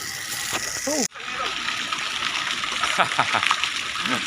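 Water runs and splashes during washing, with broadband gushing that carries on steadily under nearby voices and speech throughout.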